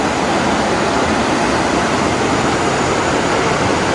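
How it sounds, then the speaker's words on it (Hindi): The Tungabhadra river at Hampi, Vijayanagara, flows with a loud, continuous rushing roar of water, a dense, unbroken wash of noise close by and no speech. "तुंगभद्रा नदी अपने प्रवाह से बहती हुई और इससे आने वाली आवाज़ आपको"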